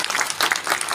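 Steady applause from a gathered audience, dense clapping filling the whole second at an even, fairly loud level with no voices over it.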